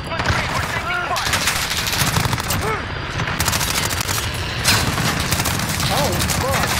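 Rapid automatic gunfire and explosions in the video game Call of Duty Modern Warfare crackle in dense, sustained bursts throughout, loud and close, with game voices speaking over the fighting.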